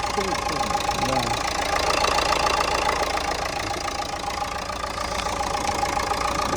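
A 2010 Opel Astra engine idles steadily and evenly at a used car market in Lutsk, a constant mid-range hum with faint crowd and street noise around it.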